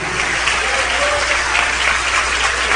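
Church congregation clapping in a dense, steady wash of applause, loud and continuous throughout.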